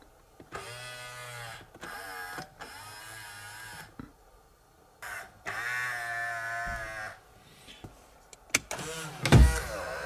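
A Nissan S14 Silvia's electric side mirror motor whirs in several short bursts, separated by brief pauses, close and fairly quiet, with a couple of clicks and knocks near the end.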